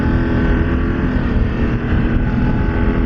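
A BMW F 900 GS Adventure motorcycle engine drones steadily while riding, a loud close rumble mixed with wind rush that holds constant throughout.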